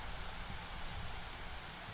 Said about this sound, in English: See, autopause, the drizzle season started.